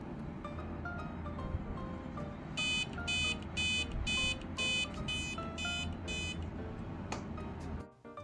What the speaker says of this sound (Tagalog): every time na may tumatawid dun sa laser, nagtitrigger yung alarm ng mini laser alarm trap natin.